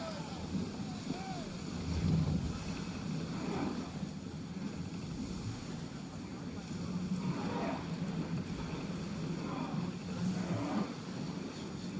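A ship under sail in Assassin's Creed Odyssey: steady wind and water wash with creaking hull sounds and swells, and voices call out over the noise.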